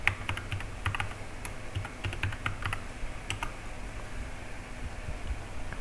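Computer keyboard typing a command into a command prompt, a steady stream of close, crisp key clicks over a faint fan-like hiss, with no voices.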